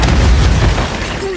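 A Semtex sticky grenade detonates in Call of Duty: Modern Warfare 3 (2023), a loud, close, deep boom that fills the whole moment and rumbles on briefly.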